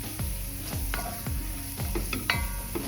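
Gluten-free all-purpose flour stirred into broccoli soup in a pot: rhythmic scraping strokes of a spoon against the pot repeat every half second or so, close, over a constant background hum, with no talking.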